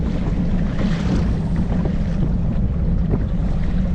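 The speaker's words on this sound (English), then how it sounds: "These waves are literally higher than my freaking kayak." High waves slosh around a kayak on Lake Havasu as strong wind buffets the microphone, a loud, continuous roar of water and gusts with no talking.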